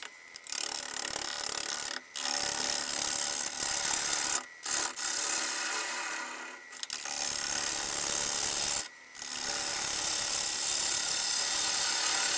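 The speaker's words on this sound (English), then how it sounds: "I'm going to put on the first coat of transparent laquer." A cloth rubs transparent lacquer onto a large turned pine ashtray on the lathe, making a steady close abrasive swishing that stops briefly a few times between strokes.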